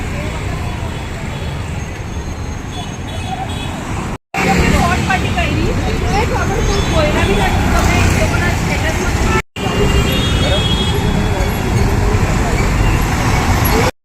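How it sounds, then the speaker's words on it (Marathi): Busy street traffic on a crowded Sunday, a continuous roar of passing cars, buses and engines close by, with people's voices mixed into the noise. "ट्रॅफिक दाखवते बघा."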